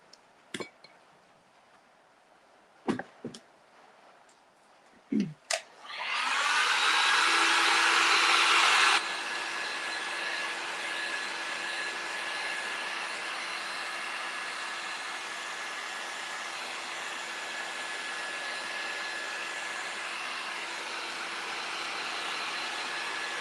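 A hair dryer switches on after a few clicks and handling knocks, then blows steadily at close range with a continuous whooshing hum, drying paint on a round door craft piece.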